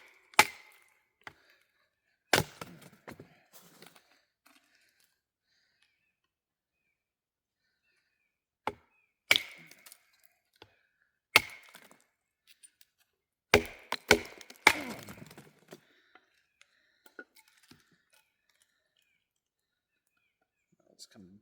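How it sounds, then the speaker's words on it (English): A KA-BAR Slabby knife is batoned hard through wood, giving sharp, isolated cracks and knocks spaced irregularly across quiet gaps, several clustered near the end, with faint whispered talk between strikes. "I'm hitting this a lot harder than I hit most knives when I baton them"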